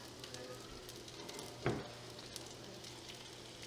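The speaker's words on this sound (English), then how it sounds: "You should get a nice sizzle like that." A steady sizzle of salmon burgers frying in hot oil, with a brief louder burst near the middle as another burger hits the pan.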